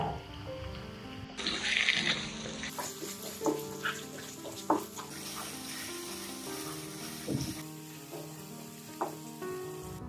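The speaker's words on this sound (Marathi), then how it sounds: "एक चमचा मिक्स मसाला अर्धा चमचा गरम मसाला घालून पुन्हा परतून घ्या" Mixed spice and garam masala sautéed in a pan for Katachi Amti, a Marathi lentil curry, with a steady sizzle broken by a few sharp scraping stirs, fairly close and with no voices.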